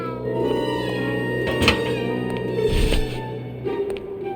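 A cat meows in drawn-out tonal cries, close and fairly loud, over a steady background hum with a couple of dull knocks and no speech.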